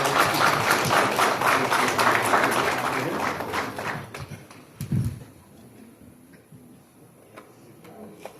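Wedding guests applaud right after the vows, a dense, fairly loud patter of many hands for about four seconds that thins out and fades, leaving a quiet room with scattered small sounds.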